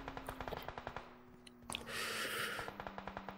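Rapid, evenly spaced gunshots from a video game tournament match crackle at moderate loudness. A short rushing burst interrupts the rhythm midway, then the steady firing resumes.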